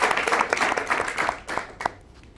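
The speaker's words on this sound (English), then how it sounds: "I would like us all to give a big round of applause to Emmanuel and the organizing team of African Investor Week" Audience at an African investment conference applauding, a brief burst of scattered clapping from the crowd that thins and fades out within about two seconds.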